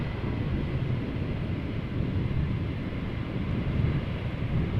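An airliner lands at Amsterdam Schiphol Airport in crosswind conditions, giving a steady, broad low rumble that holds throughout, mixed with wind noise and no voices.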